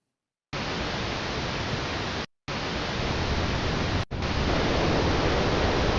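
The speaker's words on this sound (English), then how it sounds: "And we can also just have a white noise" Steady broadband white noise hissing continuously at an even level, briefly cutting out twice before resuming.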